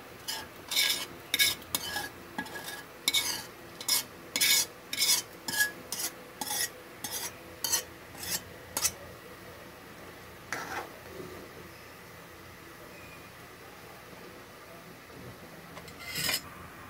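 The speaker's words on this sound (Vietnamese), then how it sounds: "Rồi, mình cho cái thịt cua này với cái cà chua hồi nãy mình xào đó," A utensil stirs crab meat and sautéed tomato into a hotpot for a Vietnamese field-crab hotpot, giving a run of rhythmic scraping strokes against the pot, close and clear, then a few isolated scrapes after a pause.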